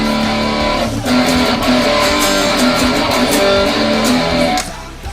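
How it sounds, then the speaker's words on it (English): Heavily distorted electric guitar through a Triple Rec distortion pedal, chugging low power chords with a thick, saturated tone, loud and continuous before a brief drop near the end. "distortion pedal. It sounds like this."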